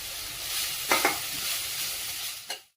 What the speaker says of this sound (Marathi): गाजर व्यवस्थित छान असं परतून घ्यायचंय